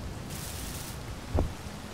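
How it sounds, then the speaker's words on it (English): Rain falls in a video game as a faint, steady hiss, with one soft low thump partway through and no voices. "It's raining."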